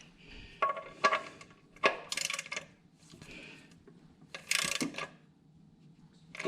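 The drain plug on a John Deere 2025R compact tractor is snugged up with a ratchet wrench. Several short, close ratcheting clicks come in separate bursts with quiet gaps between them.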